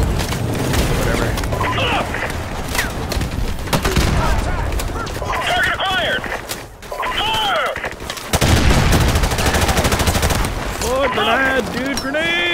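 Gunfire in Call of Duty: Modern Warfare Remastered: sustained bursts of automatic rifle fire and booming shots crackle through a continuous battle din, with voices talking and shouting over it.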